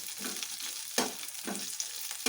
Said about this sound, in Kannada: ಸ್ವಲ್ಪ ಕಮ್ಮಿ ಉರಿನಲ್ಲೇ ಫ್ರೈ ಮಾಡ್ತೀವಿ.